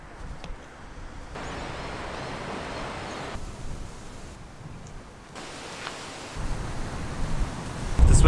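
Strong wind roars and gusts in broad rushing waves in Melbourne, surging and easing, with a sharper blast buffeting close at the end.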